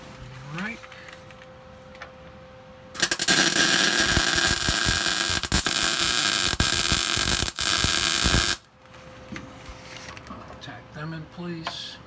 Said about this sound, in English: Let me get a grinder real quick.